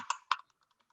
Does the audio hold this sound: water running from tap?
no